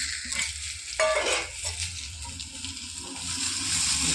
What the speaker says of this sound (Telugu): ఈ ఆనియన్స్ ఇవి కలిసి ఒక 10 minutes మూత పెట్టి వేగనిద్దాం.